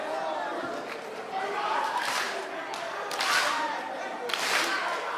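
A crowd at a school small house music event claps to welcome visiting school groups, rhythmic clapping swelling in waves amid crowd noise and chatter, with people talking over it.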